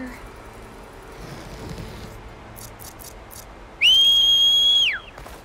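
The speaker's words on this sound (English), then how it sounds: "The loudest fucking whistle of my entire life." In the video game Horizon Forbidden West, a piercing, very loud whistle blasts as one sustained steady tone for about a second, cutting sharply above quiet background ambience.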